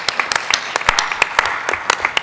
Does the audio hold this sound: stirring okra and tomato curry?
no